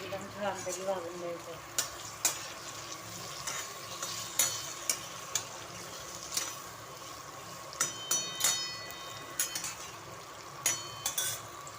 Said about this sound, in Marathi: चांगला मसाला भाजून द्यायचा शेंगा मसाले